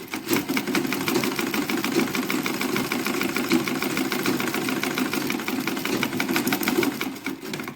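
A sewing machine stitching fabric for a statement headband, its rapid even mechanical clatter running continuously and close, with no one talking.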